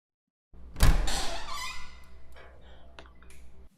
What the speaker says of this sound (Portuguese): Parece que estavam abrindo uma porta.